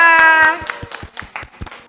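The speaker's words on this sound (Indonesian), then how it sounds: "Tepuk tangan bagi kita semua." A few people in a classroom clap after a group discussion, giving around eight sharp, uneven claps that follow a short voice at the start.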